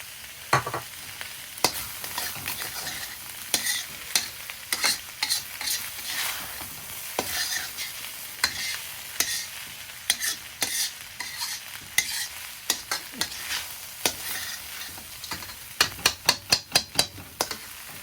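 Shrimp fried rice being stirred in a hot oiled pan, steady sizzling broken by repeated scraping and tapping of a utensil against the pan, with a quick burst of clinks near the end.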